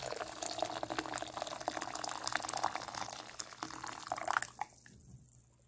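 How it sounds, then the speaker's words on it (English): Water poured onto green tea bags to brew tea for kombucha, a steady splashing pour that runs for several seconds and then stops abruptly, leaving quiet. "I'm going to add some water to it."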